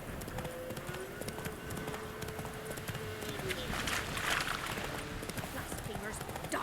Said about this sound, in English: horses racing.